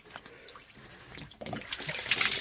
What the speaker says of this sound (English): Oh, you got a little water coming out here.